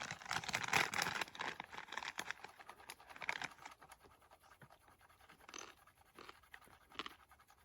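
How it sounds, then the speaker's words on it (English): A pen or pencil scratches a number into paper on a backpacking trail, a run of close, dry scraping strokes that come in short bursts, loudest at first and then trailing into sparser scratches. "The number 9 that I need to scratch into my paper."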